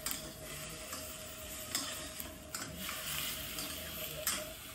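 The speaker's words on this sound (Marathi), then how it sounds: "हे बघा, अशा पद्धतीने हे कांदा आणि हे मिक्स करून घ्यायचं आहे." Mutton and onion are stirred in a pan on full heat, with a continuous low sizzle broken by repeated scraping and clinking strokes of the spoon at an uneven pace, close and fairly quiet, with no talk.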